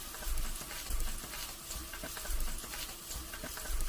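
Salmon fillet frying skin-side down in a hot pan, a steady close sizzle and crackle with soft spattering pops running throughout, no talking.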